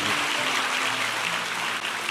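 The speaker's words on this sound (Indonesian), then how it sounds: "Kasih tepuk tangan lebih lagi dong buat Tuhan." A church congregation at a Sunday service applauds for God, a loud, continuous wash of clapping from many hands that holds steady for the whole stretch.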